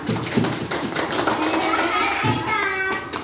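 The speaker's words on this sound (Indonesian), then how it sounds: "Tepuk tangan dong" A group claps hands together, a burst of sharp overlapping taps with thumps mixed in, alongside children's voices and talk.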